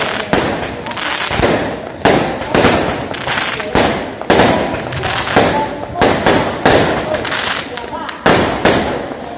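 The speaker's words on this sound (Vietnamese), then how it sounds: "Hóng mãi được một dàn pháo hoa anh em ạ." A fireworks display at a temple festival in Taiwan: rapid bursts and crackling pops in irregular clusters, some very loud and close, with voices audible beneath.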